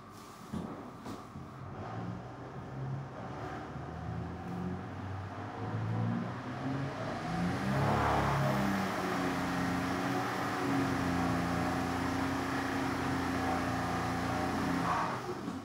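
A car engine on boost control tuning holds and lifts its revs, a steady droning hum that rises in pitch and grows louder midway, then sustains at a higher speed.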